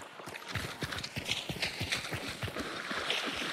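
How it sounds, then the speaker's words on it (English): Horse hooves clip-clop in the video game Hunt: Showdown as a steady, fast run of close hoofbeats that carries on through the whole stretch over outdoor game ambience. "That horse."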